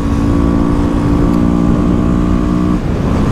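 A Yamaha Fazer 300 F motorcycle doing a wheelie, the engine revving hard and loud up close in one sustained high-pitched scream that holds steady, then drops off briefly near the end.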